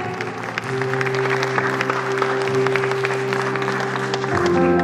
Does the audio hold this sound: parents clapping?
yes